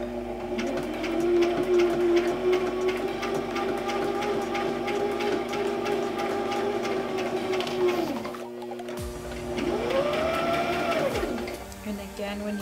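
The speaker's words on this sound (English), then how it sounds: "And then we sew. Back stitches." Sewing machine stitching a fabric face mask, running in a steady motorized whir for about eight seconds, stopping briefly, then restarting for a shorter burst, close and fairly loud.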